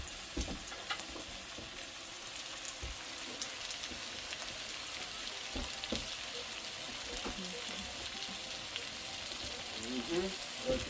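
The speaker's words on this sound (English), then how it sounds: "It's sizzling." Chicken sausage sizzles in a pan, a faint continuous crackle with scattered small pops, quiet and steady throughout with no speech.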